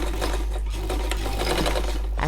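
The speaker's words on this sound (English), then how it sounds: "I'm pulling and sewing the elastic to the center." A sewing machine stitches elastic to the center of a turban cap in black thread, running loud and steady with a continuous whirring hum and rapid needle chatter, close up with no talking.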